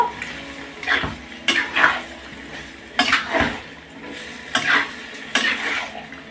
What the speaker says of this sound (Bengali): আমি সেদ্ধ করা বাঁধাকপিটা দিয়ে দিলাম দিয়ে একটু নাড়াচাড়া করব